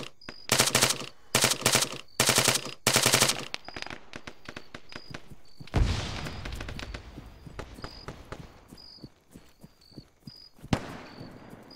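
Automatic rifle bursts in ArmA 3 co-op: four loud rapid volleys at the start, then scattered single shots and more distant fire with a heavy blast midway, largely free of talk.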